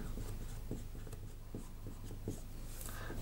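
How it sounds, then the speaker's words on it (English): Pen or pencil scratching on paper while a maths solution is written out by hand, a continuous run of short strokes and taps, close and quiet against steady background hiss, without speech. "Oh, maybe I'll just write it all down."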